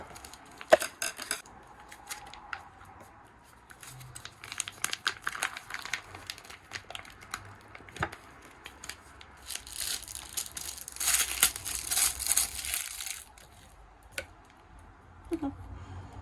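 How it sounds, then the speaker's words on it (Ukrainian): A packet of ravioli from an American MRE ration is torn open at home, with crinkling plastic, sharp tearing rips and clicks, close up and intermittent, louder rustling in the middle. "Розпаковуємо равіолі."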